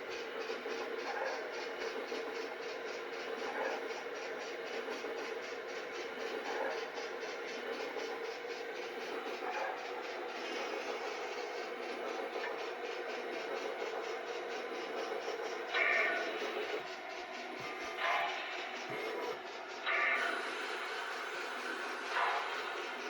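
A reworked Rivarossi Allegheny model train runs on a home layout with a steady mechanical whir and soft rhythmic clicking, a few brief louder bursts of detail sounds near the end.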